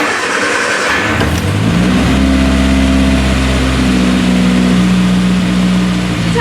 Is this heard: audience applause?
no